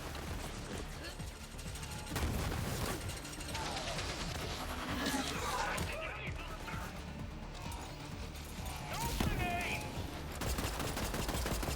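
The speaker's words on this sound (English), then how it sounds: "That's how the taser works." Flame-damage pistol and taser firing in the Borderlands 3 video game, a dense run of bursts and crackling shots with busy game sound effects, loud and continuous, and talk over the action.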